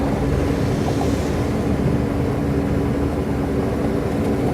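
A 2014 Bobcat E42 compact excavator drives on its tracks, a steady low engine drone with a faint rattle that stays even and fairly close throughout.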